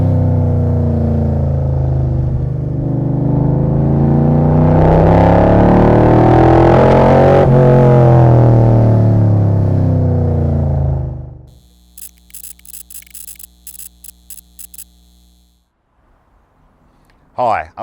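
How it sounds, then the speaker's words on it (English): A Crendon Cobra car engine revs loudly and close, climbing steadily in pitch for about ten seconds before cutting off abruptly, followed by quieter intermittent clicking and a brief final burst. "enough power from this engine"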